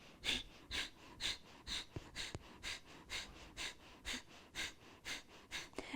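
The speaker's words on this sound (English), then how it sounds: "we forcefully exhale through the nose" Breath of fire: a quick, even train of forceful nasal exhales, about two or three each second, close and clear, each one a short sharp puff with quiet pauses between, and no talking.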